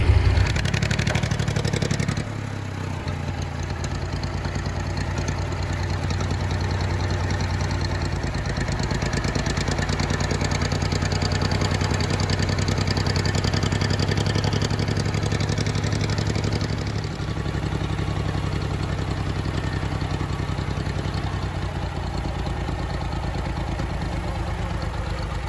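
A tractor engine idles steadily for about twenty-five seconds after lifting a grain bag, a constant low rumble with light clatter that dips briefly near the start and again late on.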